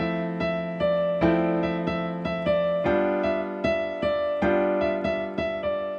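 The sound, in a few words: piano playing a tune with basic seventh chords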